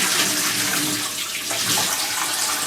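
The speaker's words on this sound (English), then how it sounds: "So let's fill this bit up with water." Water gushes steadily from a tap into a container, a continuous hissing splash, close and fairly loud, with no voices.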